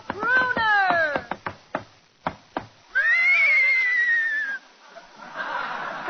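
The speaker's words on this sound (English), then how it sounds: "Hey, Abbott, there's somebody riding into the studio on a horse." A horse ridden into a film studio gives a loud, close whinny of falling tones, followed by sharp knocks and a second long whinny, with a brief voice at the end.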